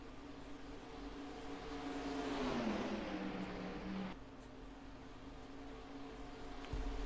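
Race car engine in fourth gear on the back stretch at Talladega in a racing video game, a steady droning roar that climbs and sweeps past, then settles into a lower constant hum.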